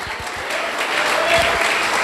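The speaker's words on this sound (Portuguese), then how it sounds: "Aplauda ao Senhor, irmãos." Church congregation applauding during a Portuguese-language sermon, a short burst of steady, moderately loud clapping filling the room.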